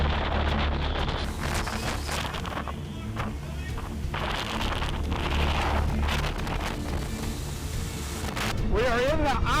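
Wind in the eye of Hurricane Ian, just south of Punta Gorda, buffets the microphone with a loud, continuous rumbling roar, while a voice is heard faintly beneath it.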